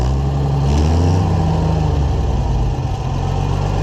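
Engine of an Oliver 770 tractor idles loudly up close after a carburetor install, still running with the choke out; a steady low rumble with a slight shift in pitch partway through.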